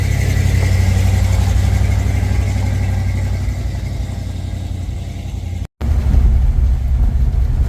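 An old truck with no air conditioning drives along on a hot day with its windows open, a steady low engine drone and road rumble filling the cab, briefly cut out near the end before resuming.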